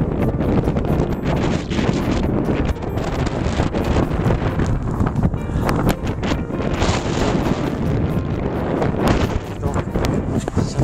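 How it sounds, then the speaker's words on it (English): Strong blizzard wind with gusts around 50 mph buffets the microphone on a winter shoreline at Stone Harbor, New Jersey, a steady loud roaring rush throughout. "50-mile-an-hour winds, I guess. Man, it's brutal."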